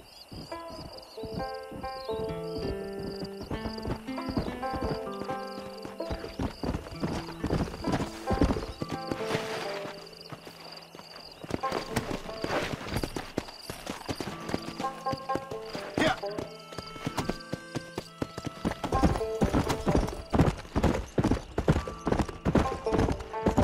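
Horse hooves clip-clopping in the Red Dead Redemption video game, set in the Old West: a steady run of hoof beats under game music and effects, with someone talking over it.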